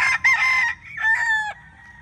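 A rooster crows loudly and close at a farm keeping hens, with a harsh strained call that breaks off briefly and resumes.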